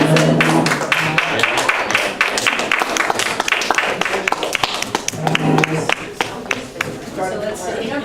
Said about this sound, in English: a big round of applause to all of our contestants